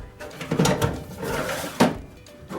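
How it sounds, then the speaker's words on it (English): Storage drawers sliding into an Ikea Kallax shelving unit, a few close wooden scrapes and knocks with a sharper bump near the end, no talking. "Now I am ready to insert my drawers."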